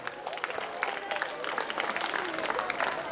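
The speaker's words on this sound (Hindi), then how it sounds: "एक बार जोरदार तालियां बच्चों" Students and guests clapping at a Navodaya Vidyalaya alumni meet, a steady crackle of many hands filling the whole span at moderate level, with faint crowd murmur mixed in.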